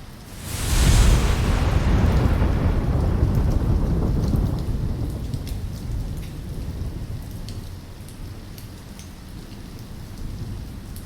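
A heavy thunderstorm opens with a loud, rolling thunder crash over pouring rain, the rumble slowly fading while steady rain keeps falling alone.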